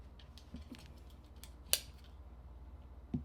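Scissors snip through fabric strips for an American Girl doll apron waistband, a few sharp isolated cuts spaced across a quiet room with a low background hum.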